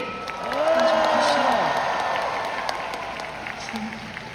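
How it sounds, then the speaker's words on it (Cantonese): A concert audience applauds at a live show in Hong Kong, a broad wash of clapping that swells and then slowly fades, heard under a voice. "掌聲"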